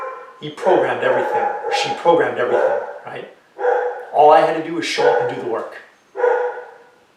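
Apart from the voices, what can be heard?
dog barking in the room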